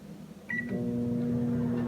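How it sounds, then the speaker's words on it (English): A Daewoo KOR-1B4H microwave oven, just repaired with a new door switch, gives a short beep and then settles into a steady, low electrical hum as it starts running, close by with no talking. "Microwave works just fine. Let's put here 10 seconds on it,"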